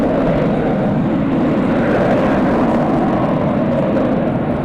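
Steady broadband roar of large jet aircraft at DFW Airport at night, a continuous loud engine rumble holding constant throughout with no voices.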